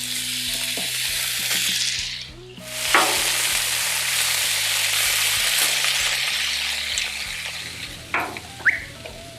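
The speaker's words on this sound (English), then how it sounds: "let's go ahead and oil up our griddle, and we'll get these put on" Chicken noodles fry on a Blackstone griddle oiled with vegetable oil over high heat. A loud, continuous sizzle is joined by scattered scrapes and clicks, and it briefly dips before surging back. No voices.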